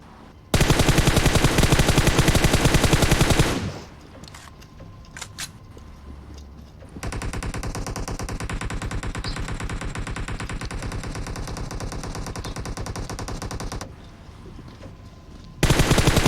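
Sustained bursts of automatic gunfire in the video game PUBG, loud and dense, with a long burst, a quieter gap with scattered shots, then another extended volley and a final burst starting at the end.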